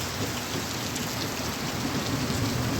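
Heavy monsoon rain pours down steadily in the Konkan countryside, a dense, even roar of drops drumming on surfaces close by, with no voices over it.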